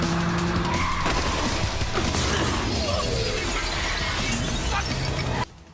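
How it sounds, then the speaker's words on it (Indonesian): A car skidding and crashing during a chase in the anime High Card: a loud, continuous roaring skid with grinding and screeching that cuts off abruptly near the end. "Chris menabrakkan mobilnya sehingga mobil mereka semua terbakar"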